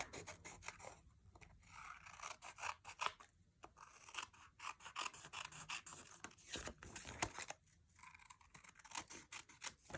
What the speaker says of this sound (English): Now I'm just trimming off the edges here.